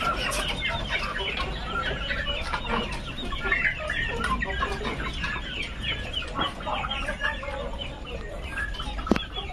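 Aseel hens clucking continuously on a farm over a busy background of overlapping bird calls, moderately loud and close, with a sharp click near the end.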